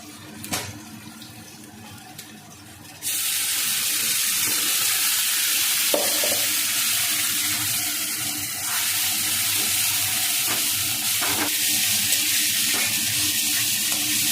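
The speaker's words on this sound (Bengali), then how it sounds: "এদিকে দেখো শুকনো লঙ্কা আর কালো কালো জিরে ফোড়ন দেব" Dried red chillies and black cumin seeds hit hot oil for tempering. After about three quiet seconds a loud, dense sizzle bursts in and holds steady, with occasional light spatters and no speech.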